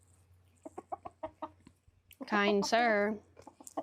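Roosters in an all-rooster flock cluck in short repeated bursts, then one louder drawn-out harmonic call swells near the middle, with a person speaking nearby.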